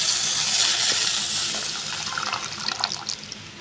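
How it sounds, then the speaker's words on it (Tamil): Tamarind water poured into a pan of frying turkey berries for a South Indian kuzhambu, a steady close splashing gush over a bright, hissing sizzle that softens slightly toward the end. "இந்த ஸ்டேஜில் நம்ம புளி தண்ணியை ஊற்றிக்கலாம்."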